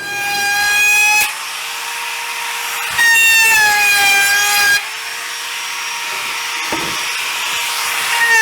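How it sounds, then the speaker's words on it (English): A router with a round-over bit shapes the edges of a wooden table top, a loud high whine in sustained passes broken by brief pauses, close and alone. "I'm going to just router off the edges to match the other table that I did for them in the past"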